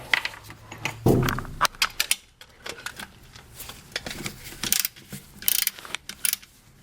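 Wrench working a 10mm bolt loose on a Mazda 626 transmission, giving scattered metallic ratcheting clicks and clanks of tools close by, uneven and fairly loud, with no talk.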